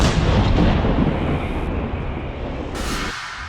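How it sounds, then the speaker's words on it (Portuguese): A loud artillery gun fires a single heavy blast that rolls on as a long, thick rumble and slowly fades, with no voices over it. "Disparo."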